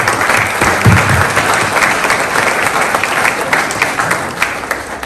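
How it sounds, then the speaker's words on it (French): Loud, dense applause from the audience at a mayor's New Year wishes ceremony in Pomponne, many hands clapping continuously and evenly throughout with a faint low thump early on. "Je vous demande de les applaudir encore une fois."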